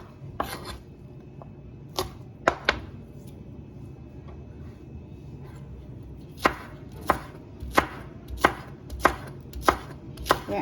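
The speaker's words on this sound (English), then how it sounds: "We cut up the carrots already" A knife chops carrots on a board, with sparse single knocks early on, then a run of regular close, sharp cuts toward the end over quiet background.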